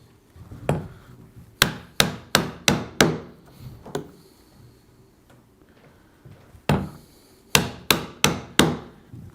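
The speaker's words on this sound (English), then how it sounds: "ever so carefully, we're just going to chop right down through to the other side" A chisel is struck with a mallet to chop through wood for a dovetail joint, giving sharp, loud knocks that come in quick rhythmic bursts of four or five with short pauses between them, close and clear.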